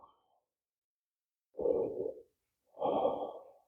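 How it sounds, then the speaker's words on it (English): Two slow, deep breaths follow a yoga session for the hips and legs. Each is a long, close, audible exhale separated by a short silence, with no talking. "So all of that work, the body's reflecting that by the pace of the breath."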